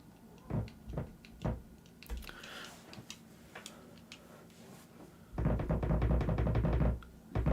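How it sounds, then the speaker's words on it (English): A phone resting on a table rocks back and forth, giving a few soft ticking knocks early on, then a louder dense burst of rapid rattling taps near the end. "That noise is literally just my phone on the table because it wobbles back and forth due to the cameras."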